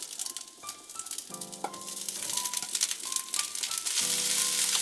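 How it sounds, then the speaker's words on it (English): Rice sizzling and crackling in hot oil in a small boat galley, a steady close frying hiss that swells and grows louder toward the end, with intermittent tonal hums in the background. "Now putting the rice in."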